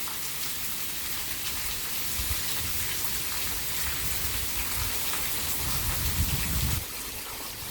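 Rain falling on a stormy night, a steady dense hiss of drops on surfaces, continuous and fairly loud with a slight swell near the end, no voices.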